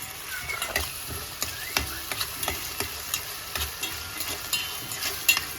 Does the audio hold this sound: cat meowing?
no